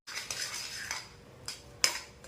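Sugar being stirred into a mawa modak mixture in a pan, soft scraping strokes and light clinks of a spoon against metal, fairly quiet and close, with one sharper knock near the end.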